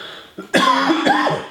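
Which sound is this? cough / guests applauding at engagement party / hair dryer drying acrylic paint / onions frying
cough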